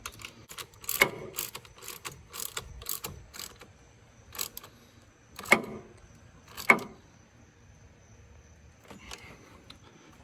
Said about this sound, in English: now we're going to go ahead and tighten up this post right here. It's a 10 mil.